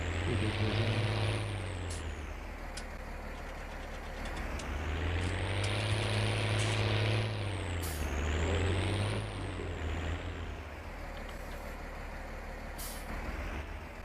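Tractor engine in Farming Simulator 19 while driving, a steady low diesel drone whose pitch swells and falls several times with throttle changes, accompanied by a high whine and occasional hissing bursts.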